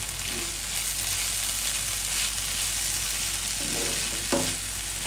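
Bengali vegetable bhaji sizzles steadily in a pan on the stove, a close, even hiss with occasional stirring scrapes and a small clink near the end.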